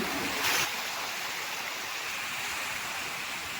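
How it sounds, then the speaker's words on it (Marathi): Rough sea waves and a strong water current rush continuously during net fishing, a dense, steady roar close at hand with no voices. "लाटा बघा मित्रांनो"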